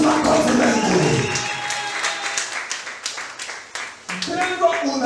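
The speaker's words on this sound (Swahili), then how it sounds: "Pigia Yesu makofi mengi." A church congregation clapping for Jesus during a sermon, with a burst of hand claps that fades across the moment, mixed with voices.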